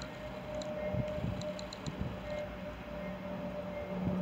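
A short CSX freight train of about 6 or 7 cars backs up slowly in a rail yard behind its locomotive, producing a steady low rumble with a faint tonal drone, soft clanks and squeaks, heard from a distance without talking.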